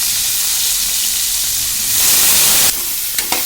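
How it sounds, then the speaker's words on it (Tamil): Eggplant frying in hot oil gives a steady, loud sizzle and hiss close by. It swells briefly toward the end, then a few stirring clatters break through. No voices. "ஆயிலில் ஃப்ரை பண்ணிக்கோங்க."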